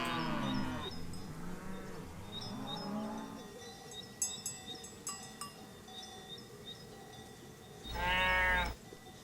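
Cows moo loudly and close, one long lowing call at the start and another near the end, with a softer moo between and a few faint clinks and scuffs as the herd of about twenty wanders past.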